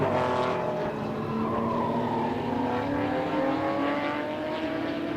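A European Porsche and an American muscle car race at club level on a circuit, engines roaring loud and steady with rising and falling pitch as the cars accelerate through the laps, with no talk.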